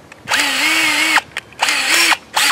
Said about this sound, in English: and put it in your drill